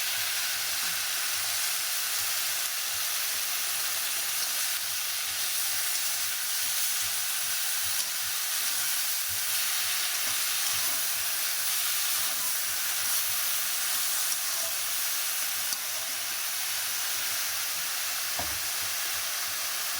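Eggplant, potato and chikni greens fry in a pan with a steady, even hiss and sizzle that carries on unbroken throughout, close by and with no talking.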